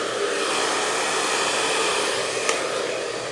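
A hair dryer runs steadily up close while short hair is dried with a round brush, a continuous loud whoosh with a brief click partway through and no voices.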